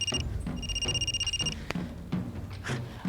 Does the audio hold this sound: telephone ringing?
yes